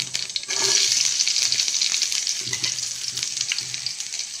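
Mustard seeds sizzling in hot oil in a kadai for tempering, a loud, dense, steady hiss with crackling and faint scraping as the pan is stirred, close up and without speech.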